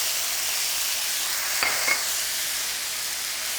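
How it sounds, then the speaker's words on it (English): Sauerkraut sizzling in a hot pan for a vegan Reuben, a steady close hiss that flares in two quick bursts partway through as it goes in, with no voices. "add the sauerkraut right to the pan"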